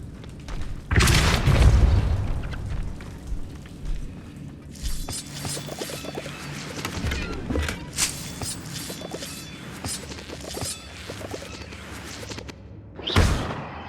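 Depulso force spell cast in the video game Hogwarts Legacy, a heavy booming blast near the start followed by softer thumps and clatter, with another short burst at the end.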